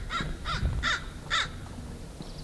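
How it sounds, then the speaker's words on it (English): A crow caws four times in a steady, evenly spaced series at moderate distance, harsh and nasal, over soft outdoor ambience in early morning light. "that's right, Mr. Crow, it's breakfast time."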